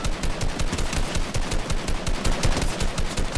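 Rapid automatic gunfire from the video game Fortnite, a dense, loud, continuous burst of shots lasting several seconds with no talking over it.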